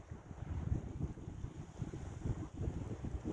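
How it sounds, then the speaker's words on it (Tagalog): Strong wind buffets the microphone in rumbling gusts on a hill above the sea, with a faint wash of surf in the background. "Malakas ang hangin guys."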